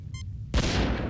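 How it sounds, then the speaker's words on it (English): Cheap fireworks go off in the Star Trek 25th Anniversary video game: a short chiming tone, then a sudden loud burst that crackles and rumbles on to the end. "Got some cheap fireworks there."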